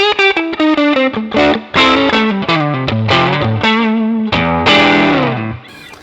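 Electric guitar through a NUX Mighty Plug MP-2 headphone amp with only reverb engaged, a quick run of picked notes and chords, some slightly distorted, ringing close and loud before fading out, with no voices.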